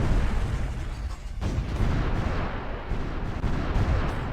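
Naval bombardment in the grand strategy game Supreme Ruler Ultimate: a dense, continuous rumble of shelling and blasts, with one sharper boom partway through.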